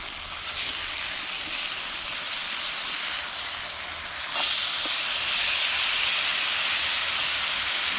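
Pork chops sizzle steadily in a hot pan, a dense close hiss that jumps louder partway through as they are flipped, with no talking.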